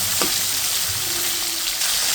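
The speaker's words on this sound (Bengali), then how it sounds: "মাছটা হালকা নেড়ে ছেড়ে ভেজে নিচ্ছি।" Shing fish fries in hot oil with cumin, giving a dense continuous sizzle and crackle up close, with a faint scrape of stirring.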